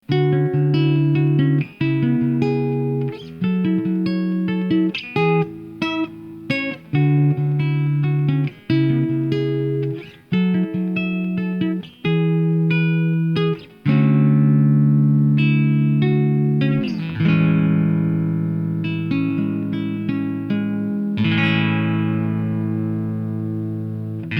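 A rare Japanese electric guitar plays a series of chords and riffs, some phrases cut off abruptly, with bright sustained notes and a touch of effect, no voices.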